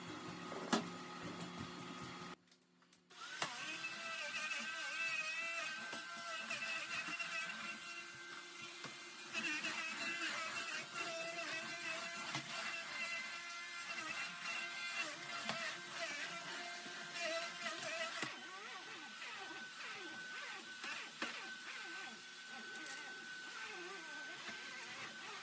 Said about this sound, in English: This vacuum is so powerful.